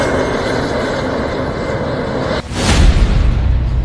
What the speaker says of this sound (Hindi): भारत के आसमान में लड़ाकू विमान तेजस की हुंकार सुनाई पड़ी।